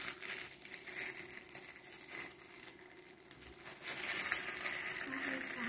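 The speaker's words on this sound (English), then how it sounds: "now we're gonna open up the bag." A plastic bag of marshmallows is opened, with continuous crinkling and crumpling of the plastic close up, louder toward the end.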